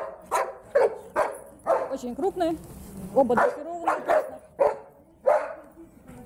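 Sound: black German Shepherd dogs barking

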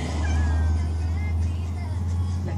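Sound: cat meowing

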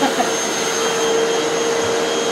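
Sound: Sanitaire Extend Mighty Mite vacuum cleaner running

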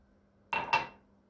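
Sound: straining garlic into a glass of water

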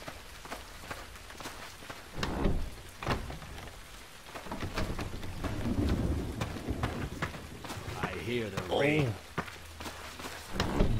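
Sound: rain and thunder in Dark Messiah of Might and Magic video game

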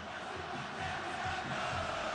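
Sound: Bahia supporters roaring at Arena Fonte Nova stadium

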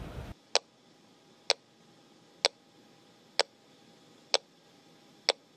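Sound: flight data recorder underwater locator pinger

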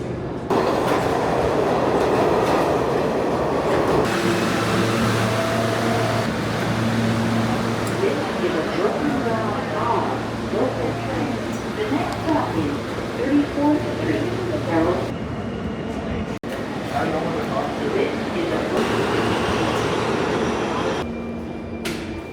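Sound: subway train riding

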